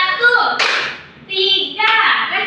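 A class of children claps hands on command in a classroom, sharp bursts of clapping mixed with a teacher's voice and kids' voices, the claps coming in short grouped rounds.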